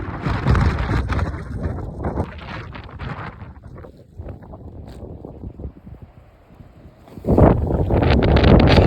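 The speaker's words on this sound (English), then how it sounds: "So we're just getting comfy, sort of hiding from the wind." Strong wind buffets the microphone on an exposed New Zealand mountain ridge during a red stag hunt, loud roaring gusts that ease briefly, then surge again near the end, with no talk.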